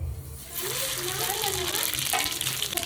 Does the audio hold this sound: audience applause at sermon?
no